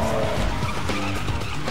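Car drifting in Need for Speed Underground 2, a loud sustained tire squeal over a roaring engine, skidding continuously across the short moment with no voices heard.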